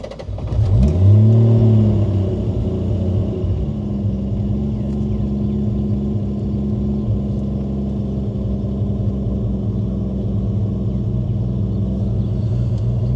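A 1989 Toyota Supra engine revs up sharply then settles into a steady, loud boosted drone, a close continuous rumble with no talking over it.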